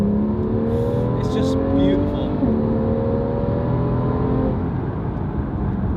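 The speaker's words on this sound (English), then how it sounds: "the best thing about this car is the sound. I mean, I've got the sports exhaust on right now," A Porsche 911 Carrera GTS with its sports exhaust on gives a steady, deep, close exhaust burble with slight rises in pitch, while someone speaks briefly over it.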